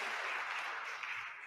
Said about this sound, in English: A round of applause for table 9